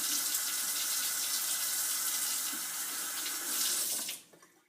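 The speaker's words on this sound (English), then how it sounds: "Now the first thing you need to do is wash off the fish to get all the bacteria and germs off of it." A fish rinsed under a running kitchen tap: a steady, close rush of water splashing into a sink for about four seconds, then cut off abruptly with a few fading drips.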